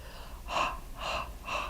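Three slow, deep breaths drawn in sequence during a guided breathing session, each a soft airy inhale spaced about half a second apart, close and fairly quiet.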